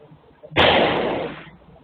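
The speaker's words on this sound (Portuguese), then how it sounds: "Na gravação, dá para ouvir os disparos." A single loud, sharp gunshot from an armed attack on a man at a vehicle, captured on a street recording, with a short decaying echo and faint background noise before it.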